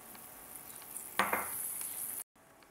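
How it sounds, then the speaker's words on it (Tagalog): Garlic goes into annatto-coloured oil in a home kitchen pan for a vegetable kare-kare, giving a steady close sizzle that swells with a brief louder burst of frying before cutting out, with no talking. "So, ilalagay na natin ang ating garlic. Tayo magigisa."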